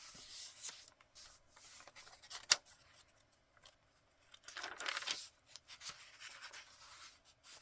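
Scissors snip paper while fussy cutting journal-card illustrations, a series of soft, close snips and rustles with quieter gaps, no talking.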